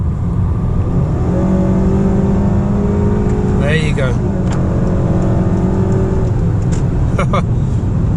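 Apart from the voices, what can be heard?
2018 Honda Accord 2.0L turbo accelerating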